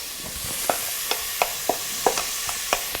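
Vegetables for a soup sizzle in olive oil in a pot, a steady frying hiss broken by about eight sharp scraping clicks as a utensil stirs them, close and fairly quiet, with no voices.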